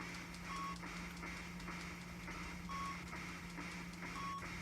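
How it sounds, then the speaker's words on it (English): Short high beeps from the NES game 1942 repeat at a steady interval over a constant low electronic hum, the pattern looping every couple of seconds. "The beep beeps get annoying to me sometimes if I'm going to play it for a long time."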